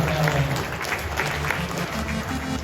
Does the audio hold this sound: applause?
yes